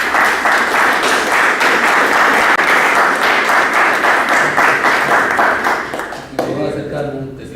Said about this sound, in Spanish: nos acompaña el escritor Guillermo Niño Guzmán, para quien pido un aplauso